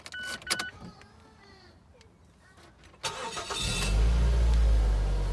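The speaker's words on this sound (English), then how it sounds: "I'm just starting the car up." A Mazda BK car's engine cranks and catches after a few quiet clicks and a short whir, then settles into a loud, steady low rumble nearby.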